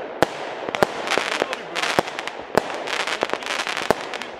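A neighbor's fireworks burst in a quick irregular series of sharp cracks and bangs, some crackling between the louder reports, heard at a moderate distance with no talk.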